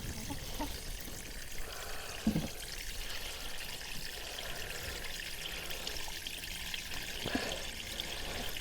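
Water pours steadily into a food-growing container for a deep soaking, a continuous close trickling wash with a couple of brief louder splashes.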